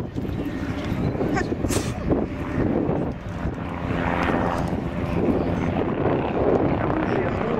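A Bo 105 helicopter with a hingeless rigid main rotor flies an aerobatic display at an airshow, its rotor and engine making a steady, loud broadband roar that swells and fades slightly as it manoeuvres.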